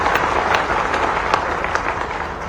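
Audience clapping at a Bhopal public event with the chief minister, a brief, steady burst of crowd applause with some nearby sharp claps.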